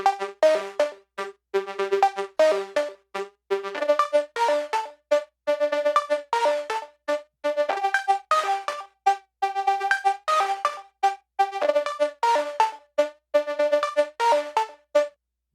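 A synth melody in Ableton Live with an LFO modulating its frequency, a long run of plucky, rhythmic notes in quick repeated phrases, steady and prominent with no other sounds.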